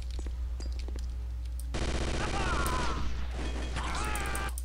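Bursts of rapid gunfire from the video game Chaser ring out over a steady low drone, with a dense stretch in the middle and another volley near the end.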